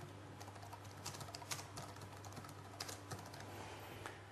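Fingers type on a computer keyboard: soft, irregular key clicks with small clustered bursts, close and fairly quiet over a low steady hum, with no voices.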